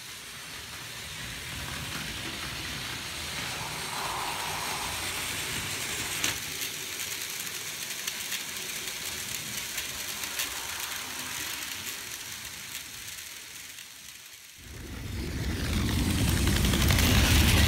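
A Plarail toy train runs on a track layout recreating Higashi-Tokorozawa station on the Musashino Line, giving a steady mechanical whirring rattle that carries on throughout and grows louder near the end.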